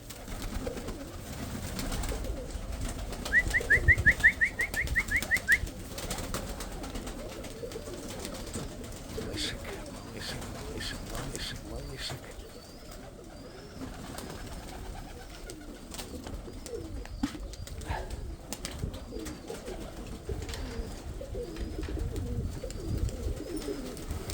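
Pigeons waiting for their morning feeding coo softly and repeatedly over a steady outdoor background hum, with one brief louder trill early on; no one speaks.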